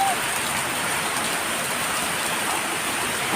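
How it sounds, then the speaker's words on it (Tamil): Heavy continuous rain pours down steadily during a flood in Tirunelveli, a dense unbroken hiss of falling water that stays loud and even throughout. "பட் மழை வந்து விடாம கன்டினியூஸா பெஞ்சுட்டே இருந்ததால"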